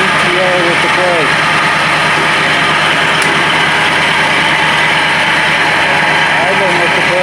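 A John Deere 345 lawn tractor engine idles steadily and loudly throughout with the brake engaged, a constant low rumble with a brief faint squeak or two near the start.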